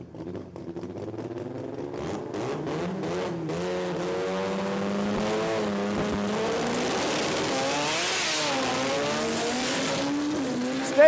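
A four-cylinder pro compact drag racing car screams down the strip at an Australian sports compact drag event, its high-revving engine rising steadily in pitch through the run and staying loud and close throughout.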